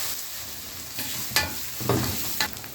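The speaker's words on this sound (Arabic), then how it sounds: "اهم خطوة اني اسيب الزيت يسخن عشان عايزة طشة البصل" Sliced onions sizzle steadily in hot oil and lamb fat, with a few louder bursts and clatters of stirring in the pan.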